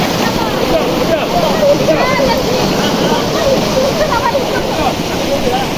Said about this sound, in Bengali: এখানে একটা ছোটখাটো ঝর্ণা